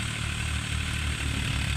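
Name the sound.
tractor engine running beside a thresher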